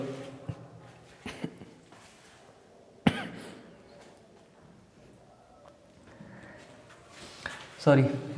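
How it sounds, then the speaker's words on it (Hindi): A few sharp coughs break through a quiet room, with brief clustered bursts and one harsher cough near the end, no speech alongside. "खांसी आ गई है थोड़ी"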